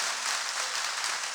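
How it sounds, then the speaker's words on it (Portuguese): A church congregation applauds, a dense wash of many hands clapping at once, steady and sustained at moderate volume without speech. "Pode dar uma salva de palmas?"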